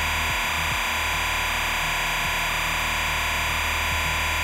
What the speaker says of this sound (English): for the timecode of the audio file, which sounds like this